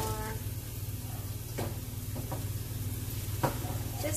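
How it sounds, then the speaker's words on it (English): Taco meat with seasoning is stirred in a pan over a constant low sizzle, with a few scraping strokes and a small clack near the end, close and without talk. "Give that a stir"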